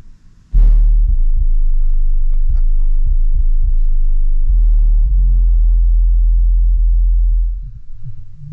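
Heavy, droning bass from Eminem's "Kill Shot" pounds through a Stereo Integrity HS24 subwoofer installed in a Cadillac Escalade, kicking in abruptly and holding loud, deep and sustained for several seconds before cutting off.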